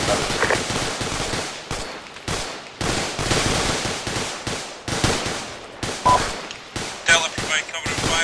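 Gunfire from a multiplayer military simulation in ArmA 2 crackles in loud, close bursts of automatic fire. Overlapping shots repeat rapidly across the whole stretch, with brief gaps between volleys.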